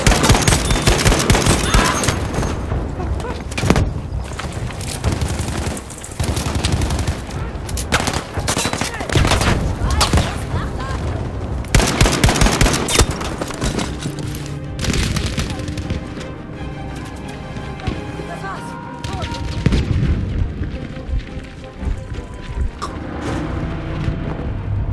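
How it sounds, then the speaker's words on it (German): Gunfire and explosions in the Battlefield V video game: dense bursts of automatic rifle fire and scattered shots with occasional booms, loud and nearly continuous throughout, with some voices mixed in. "Sie schießen auf mich!"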